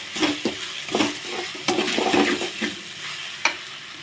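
Onions fry in a pan for egg rice, with a sizzle under repeated, fairly loud scraping stir strokes in an uneven rhythm and no speech.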